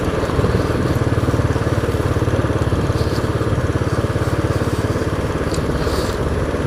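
A Royal Enfield 535 Continental GT's single-cylinder engine thumps in a fast, even rhythm while riding, loud and close, with wind rush over it.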